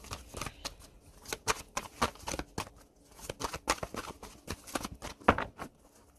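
Tarot cards shuffled by hand in a quiet room: a rapid series of crisp, close riffling bursts and soft slaps, with brief pauses between rounds and no talking.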